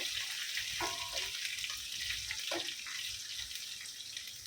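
Soft, steady sizzling of spinach frying in hot oil, a faint hissing crackle throughout with a couple of light clinks.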